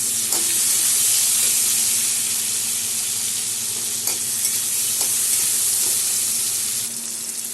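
Potato chunks seasoned with salt and turmeric fry in hot oil, a steady close-up sizzle with faint stirring clinks scattered throughout, no voices.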